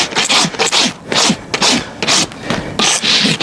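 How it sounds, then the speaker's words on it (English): A farrier's coarse rasp is drawn back and forth across a horse's hoof to level it after the old shoes are pulled, making loud, close, rhythmic scraping strokes, about two per second, with no talking. "Now with this rasp, this file is called a rasp."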